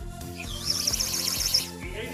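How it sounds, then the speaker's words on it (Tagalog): A shrill, warbling whistle from a toy bird whistle trills up and down like a bird's song, close and fairly loud, over a rhythmic background thump. "bird whistle"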